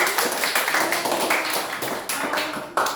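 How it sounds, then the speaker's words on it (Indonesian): A classroom of students claps after group presentations, a short burst of uneven, fairly close hand claps with a few distinct taps standing out. "Beri tepuk tangan sekali lagi"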